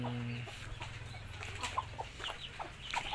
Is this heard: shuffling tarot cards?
no